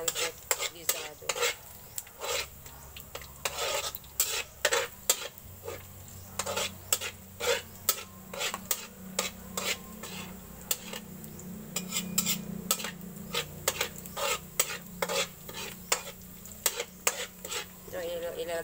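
Pancit guisado is sautéed in a pan, with a metal spatula scraping and clanking in rapid, irregular strokes over a steady sizzle. The sound is close and continuous, with faint talk in the background.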